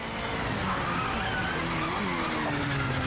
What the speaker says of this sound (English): I made so the engine noise is low, but the gearbox noise is very high